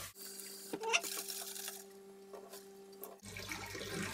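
Sunflower seeds being rinsed under running water in a kitchen sink, a steady faucet stream with brief splashes and clatter, then a shift to a fuller gush as the water is drained off near the end.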